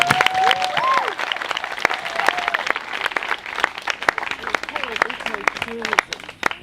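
A gathered crowd of people forced off their land claps together, a steady wash of applause with scattered sharp individual claps, while voices and calls rise over it throughout.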